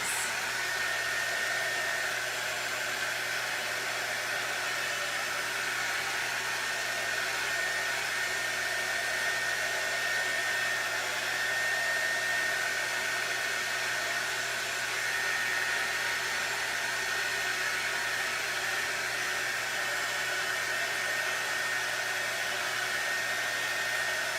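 A hair dryer blows steadily on wet paint on a canvas. It whirs loud and close in one unbroken, even roar, with no pauses or talk.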